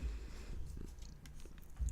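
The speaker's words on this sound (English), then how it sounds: "are you bringing more purrs? You can always bring purrs." A cat purring up close, a low steady rumble with soft rhythmic pulses, quiet and continuous over a couple of seconds.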